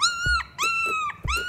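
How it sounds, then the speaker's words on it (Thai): Puppy dog growling and whimpering up close, three loud high-pitched whining yelps with rising and falling tone, each opening with a brief low growl, in quick succession with no talk. "Look! What a cute puppy!"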